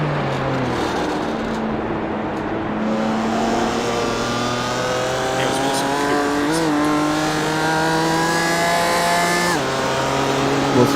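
On-board BMW race car engine in a sim racing game, a loud continuous engine note rising through the revs and dropping at gear changes, close throughout.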